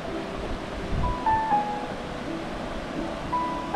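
Swift river water rushes under a bridge beside an old riverside town in China, a steady, loud broadband roar with no talk over it.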